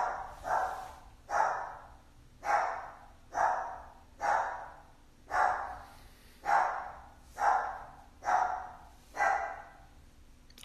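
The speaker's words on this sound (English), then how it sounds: "but there's a dog barking." A dog barks repeatedly at a steady rhythm, nine or ten loud, evenly spaced barks in a quiet room with no voices.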